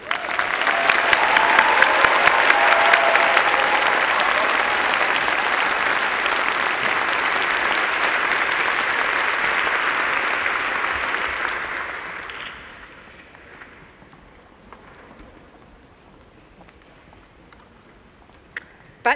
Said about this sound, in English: Please join me in a round of applause to our graduates.